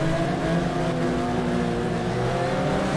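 A race car, a Porsche 996 in the GTR 2 FIA GT racing game, accelerates hard with a loud, steady, high-revving engine drone and no voices.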